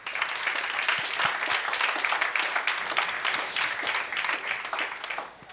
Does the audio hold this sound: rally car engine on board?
no